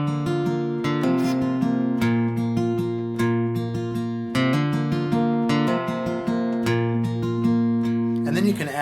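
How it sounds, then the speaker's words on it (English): Fingerpicked acoustic guitar playing the intro chords of a song in G, steady arpeggiated notes ringing over sustained bass tones, clear and close with no voice. "if you do that with the intro chords on this song, it would sound like this"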